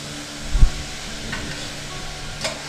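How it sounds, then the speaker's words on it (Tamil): Mutton sizzles in a pan while being stirred from the bottom for Madurai uppu kari, a soft steady fry hiss with a low thud and light scraping, close with no talk. "அடியிலேருந்து நல்லா கிளறி விடணும்."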